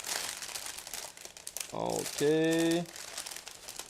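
A plastic bag holding sprues from an ICM 1/48 He 111H-6 model kit crinkles and tears open in close bursts, while a voice speaks briefly between the rustles.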